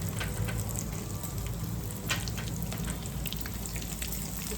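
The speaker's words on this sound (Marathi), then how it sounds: "कच्चा गरम मसाला, मिरच्या ॲड करूया." Whole garam masala and green chillies frying in oil for matar paneer, a steady, fairly loud crackling sizzle with a few faint spatula taps over it.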